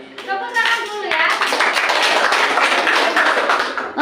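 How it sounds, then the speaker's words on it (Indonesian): Clapping from a class of children, following a teacher's spoken prompt, a brisk burst of many hands close by, steady and full for several seconds after a brief voice at the start. "tepuk tangan dulu ya"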